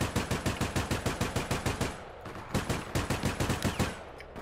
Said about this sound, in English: Yeah, I shot him by accident because he jumped.